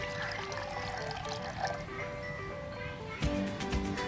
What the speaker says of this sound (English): Now I am going to add water to it to let it boil.